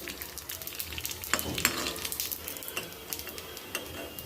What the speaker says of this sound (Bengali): এখন হচ্ছে এই ফুচকা কয়টা ভেজে নিব